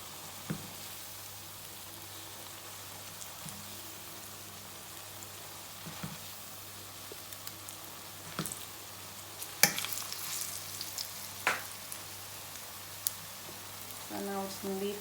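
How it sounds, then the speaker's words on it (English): Plantains shallow fry in a thin layer of oil in a pan, giving a quiet, continuous crackling sizzle broken by occasional sharper pops and light clicks of a utensil. "my oil is just enough that it's coated the pan, is not higher than the plantain"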